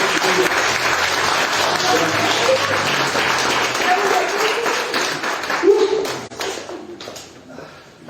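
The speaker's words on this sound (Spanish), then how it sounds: "Dale un aplauso al Señor." A church congregation gives a sustained round of applause that thins into scattered claps and fades, with some voices heard underneath.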